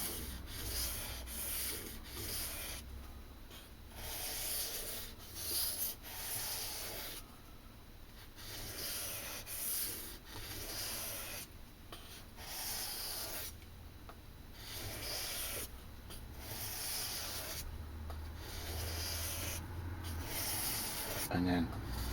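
The bevel of a homemade craft knife, made from a kitchen knife, is sanded with steady back-and-forth rasping strokes in a close, even rhythm, with brief pauses between passes.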